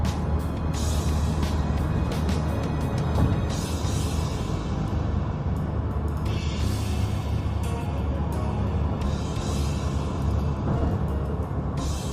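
A car cruising along an elevated Bangkok expressway after the Rama IX Bridge, steady close road and engine roar with tyre noise running throughout, no voices.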